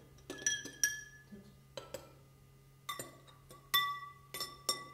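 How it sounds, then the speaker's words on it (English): Spoons clink against glass containers holding improvised acid-base indicator solutions, about a dozen sharp bright taps in short irregular bursts over a low steady hum, close and clear. "Give them a stir."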